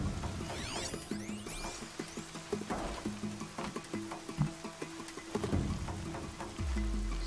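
Steady rain falls in Horizon Zero Dawn, a continuous hiss layered with clanking mechanical game sounds and occasional sweeping tones, with no talk.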